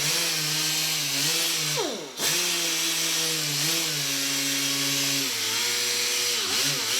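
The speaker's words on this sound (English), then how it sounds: "I kind of like the little random orbit thing with the squishy pad there" A random orbit sander with a soft foam pad runs steadily on a handle insert, whining loud and close. It dips sharply for a moment near two seconds, then returns to its even hum.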